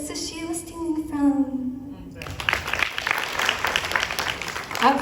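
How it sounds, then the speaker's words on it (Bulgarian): Pageant audience breaks into applause after a sung passage ends, clapping swelling suddenly and continuing densely with some voices beneath. "Аплодисменти."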